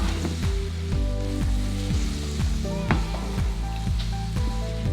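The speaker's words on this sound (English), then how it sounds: "we only want to sweat these peppers down for about 2 minutes" Diced peppers sweat in a pot as part of a chicken spaghetti casserole, giving off a steady, loud sizzle throughout. A repeating tonal musical pattern plays over the frying, and no one speaks.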